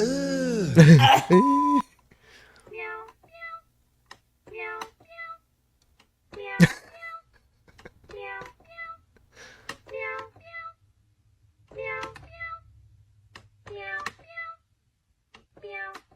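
A cat meows repeatedly in short, evenly spaced calls after a brief burst of loud voice and noise at the start, with quiet gaps between meows.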